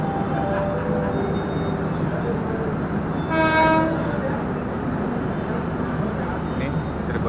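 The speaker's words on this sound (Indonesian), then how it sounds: "Ini Cirebon Ekspres Komuter datang lagi." Cirebon Ekspres commuter train arriving at Gambir station in Jakarta, a steady rumble of rolling wagons with a short horn blast partway through, all beneath a continuous station din.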